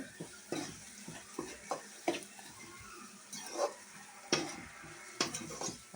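Intermittent stirring and scraping of chicken gravy in a pan over a soft sizzle, with irregular clinks and sloshes of liquid, close by and moderately quiet.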